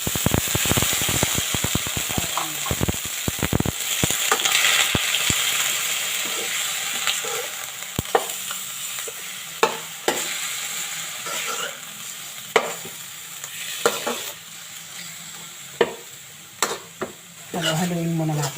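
Pork adobo, Bicolana-style adobong baboy, frying in a pan, opening with a burst of rapid scraping and clatter, then a softer sizzle punctuated by occasional spoon knocks and stirs.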